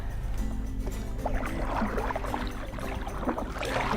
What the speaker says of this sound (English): All right, let's get paddling.